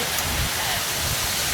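Steady rush of a small waterfall in a park, a continuous broadband splash of falling water with no pauses.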